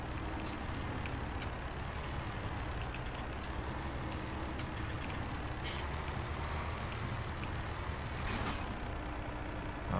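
Heavy transport truck in Landwirtschafts-Simulator 17 backing up slowly during a 550-tonne crane haul, with a steady loud diesel rumble throughout, occasional faint air hiss and brief clicks, no talking.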